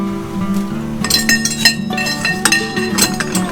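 A metal spoon clinks repeatedly against a glass of root beer float, a run of bright, ringing taps and scrapes heard up close, with a low steady tone droning beneath.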